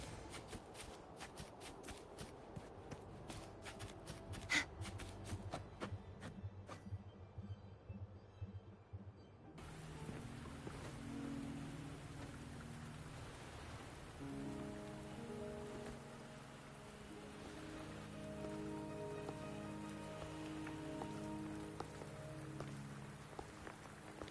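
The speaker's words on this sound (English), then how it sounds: "Are you trapped here by the rain?" Rain patters steadily on a surface, with sharp clicking and shuffling at first, then a denser, even wash of falling drops joined by a soft tonal hum.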